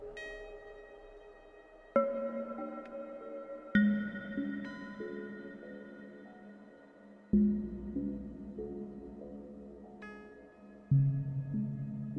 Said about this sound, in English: just letting that burst of just reverb pseudo choir going